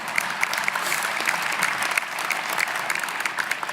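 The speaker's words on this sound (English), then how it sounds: "You can clap for that, that's okay." A crowd applauds steadily during a political speech, dense clapping from many hands filling the whole stretch at a consistent moderate loudness.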